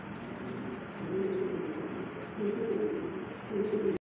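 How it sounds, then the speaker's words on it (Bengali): A pair of Beauty Homer pigeons coo in a loft, giving low, throaty coos in about three swelling bursts over a faint background hum, close and fairly soft. "সুপ্রিয় দর্শক দেখতে পাচ্ছেন এখানে আরো এক পেয়ার বিউটি হোমা কবুতর"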